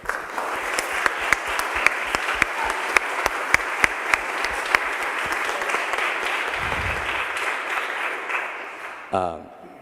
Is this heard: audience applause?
yes